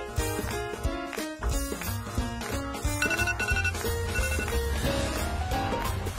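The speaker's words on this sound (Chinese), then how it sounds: "又打电话嚟" A telephone plays a repeating melodic electronic ringtone, loud and continuous for the whole stretch, with no talking over it.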